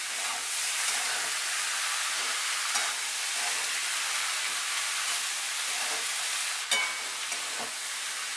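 About half a kilo of mixed vegetables for Maharashtrian Bhogi bhaji fry in hot oil with a loud, continuous close sizzle, stirred steadily with a few faint clinks of the spoon.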